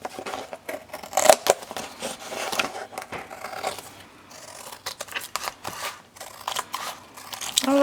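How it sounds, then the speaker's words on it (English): Scissors trim paper for an art journal binder made from recycled materials, giving close, irregular crisp snips and rustling scrapes separated by short pauses. "take your scissors and trim it out the same way"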